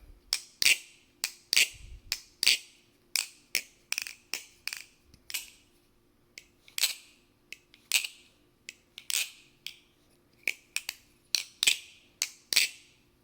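Crisp metallic clicks and clacks from a Theone Falcon live-blade balisong being flipped, coming in quick irregular bursts and pairs with short pauses, close and fairly muted, with no talking.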